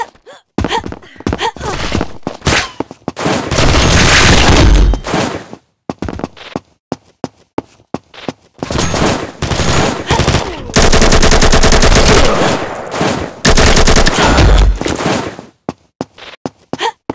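Rapid automatic gunfire from the shooter game Combat Master, loud long bursts broken by short gaps and single shots, filling the clip.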